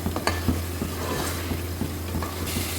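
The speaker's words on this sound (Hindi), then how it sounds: "इसको भी भून लेते हैं, मसाले के साथ ही बोनलेस है तो ये बहुत ही जल्दी से कुक हो जाएगा" Boneless meat frying with masala in a pan, giving a steady close sizzle with soft scraping and stirring strokes throughout.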